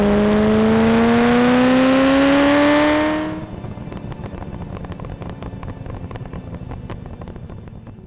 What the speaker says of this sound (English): I'm driving a 1989 Ferrari